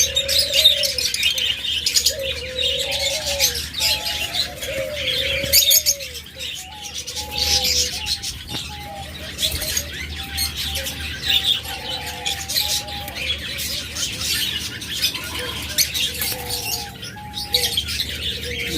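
A pair of conure parrots give repeated short, squawky calls over a busy background of other chirping birds, with soft flapping and rustling, fairly close and steady.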